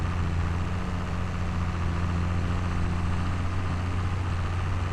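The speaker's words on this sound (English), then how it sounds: "Well, it's good to know that this tractor can handle it." A 72-horsepower tractor engine idles steadily in a farming video game during carrot harvesting and field weeding, a constant low rumble with a deep hum holding level throughout, with no talk over it.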